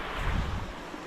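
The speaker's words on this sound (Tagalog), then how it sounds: "Malakas ang agos, kaya huwag kang basa ka tiwala." Strong river current rushing along a river in Taiwan, a steady broadband wash of turbulent water with some wind buffeting, continuous and fairly close, no voices.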